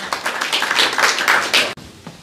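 Audience applause welcoming a poet at an Urdu mushaira in London, a thick burst of many hands clapping that swells and ebbs for about two seconds before cutting off abruptly.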